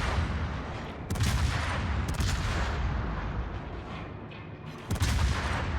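Naval gunfire in a warship combat video game, HE salvos from a ship's main battery and secondaries, booming in dense, overlapping bursts with sharp loud onsets near 1, 2 and 5 seconds over a continuous rumbling battle bed.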